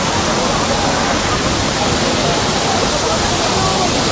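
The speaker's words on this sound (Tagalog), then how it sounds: "Ang lakas ng bagsak ng tubig." Malabsay Falls pours down with strong, loud falling water, a dense unbroken roar that fills the whole scene at close range without pause.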